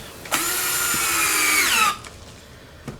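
A power drill drives a screw into wood in one whining burst of under two seconds, its pitch sliding down as the screw seats, followed by a faint click and quiet.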